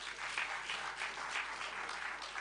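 Audience at a memorial lecture applauding in a steady, moderately distant wash of many hands, with soft rhythmic swells and no talking.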